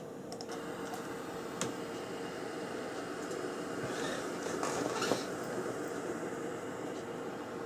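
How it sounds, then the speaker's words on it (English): A Windows 98 gaming computer runs with a steady, loud, broadband whoosh of fans, much like a vacuum cleaner, holding even throughout with a few faint clicks on top and no talking. "Sounds like a vacuum cleaner."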